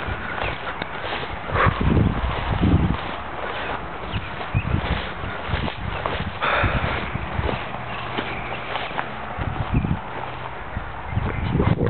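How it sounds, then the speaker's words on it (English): A horse walks around a backyard, its hooves clopping unevenly on the ground at close range, with light shuffling and no talking. "There's the horse."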